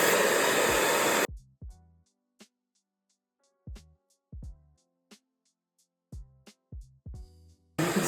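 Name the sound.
hair dryer blow-drying hair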